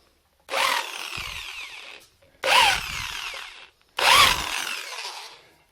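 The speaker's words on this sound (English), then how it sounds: "I'm only going to drill in a little bit so it can countersink them screws" A power drill whirs in three short bursts, each about a second and a half, biting into wood with a grinding, rising whine before stopping, countersinking screw holes.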